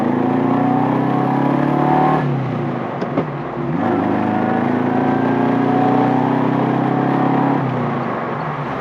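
A vintage Saab Sonett sports car accelerates hard in second gear. The engine note climbs steadily, dips briefly during a shift near the middle, then rises again in a loud, strained whine until it eases at the end.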